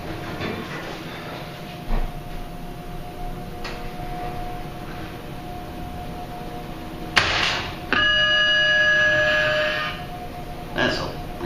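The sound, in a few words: Schindler 3300 elevator chime bell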